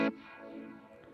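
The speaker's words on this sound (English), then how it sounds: "That is both reverb and delay." A guitar note played through a BOSS DD-200 pedal set to combined reverb and delay starts with a sharp pluck, then a long, washy echoing tail that sustains evenly, with no talking.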